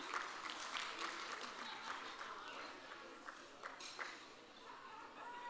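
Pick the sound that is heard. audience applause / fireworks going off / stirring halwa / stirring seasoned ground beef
audience applause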